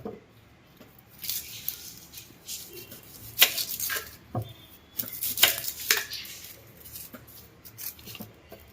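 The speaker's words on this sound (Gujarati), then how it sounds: "ડુંગળીને આપણે કાપી નાખીએ।" A knife chops onions on a board for onion bhajiya with a run of quiet, irregular cuts and sharper knocks, close and fairly soft, with a few faint kitchen clatters.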